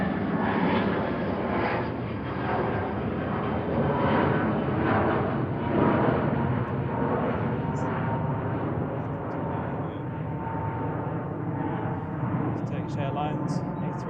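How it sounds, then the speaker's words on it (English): A Turkish Airlines Airbus A330 jet passes over Manchester Airport with its landing gear down, its engines a loud, sustained broadband roar that slowly fades, with a voice talking over it. "Turkish Airlines A330 then. Still got its gear down."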